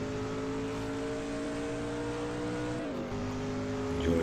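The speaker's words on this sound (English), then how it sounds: "Enjoy the sound of that V8 before we head into the pits" V8 race car engine in the Assetto Corsa driving game at Sebring International Raceway, a loud close continuous roar holding high revs along a straight, dipping briefly at a gear change before climbing again, with no talking.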